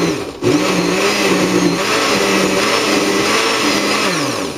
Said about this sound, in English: you don't want to overpack a home blender